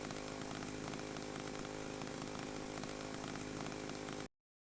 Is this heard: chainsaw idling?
yes